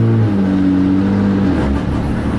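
A Cummins diesel pickup truck engine drones loud and close, its pitch stepping as the transmission upshifts partway through, then settling into a steady rumble.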